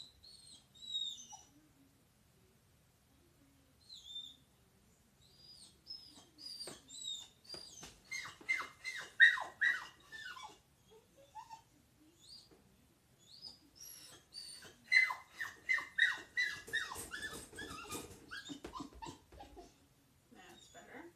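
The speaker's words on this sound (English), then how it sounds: "this stuff is just puppy hissy fits" A puppy whining in her crate, high thin whimpers and yelps coming in repeated bursts with short pauses, close and fairly loud, with faint low sounds in the background.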